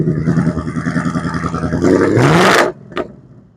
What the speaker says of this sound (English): let's hear what this exhaust sounds like in this V8.